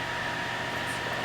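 Meringue being whipped with an electric mixer: a steady, dense motor whir with broadband hiss, continuous and unchanging for the short stretch, with no speech.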